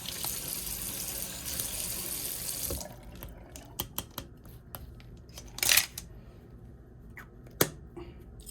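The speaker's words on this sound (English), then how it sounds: "let's get a little water on here. Rinse that out." Tap water runs steadily to rinse rust-removal paste off metal, a full wash of noise for about three seconds before it cuts off, followed by scattered sharp clicks and light handling sounds.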